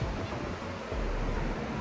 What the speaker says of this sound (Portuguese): Tá escutando o barulhinho do mar?